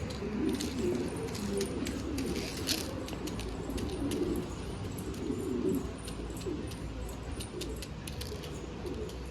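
Pigeons coo in low, repeated murmurs close by, with faint higher chirps and clinking sounds scattered over a steady background.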